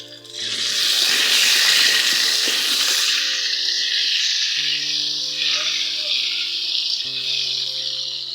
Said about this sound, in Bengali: এই যে পেঁয়াজটাও দিয়ে দিয়েছি এখন একটু লাল লাল করে ভেজে নেবো